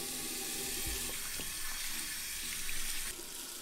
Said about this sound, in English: Wet your hands with warm water.